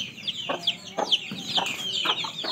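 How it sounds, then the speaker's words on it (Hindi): Backyard hens cluck close by in a morning farmyard, with a quick series of short overlapping clucks and chirpy calls coming in irregular bursts. "ये देखें मुर्गियाँ"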